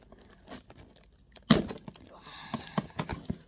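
Packing tape on a box rips and crinkles as it is pried loose with a ruler, with a sharp tearing snap midway followed by scattered crackles and brief voice sounds.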